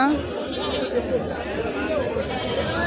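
Goats bleating nearby over a continuous background of people chattering at a livestock market.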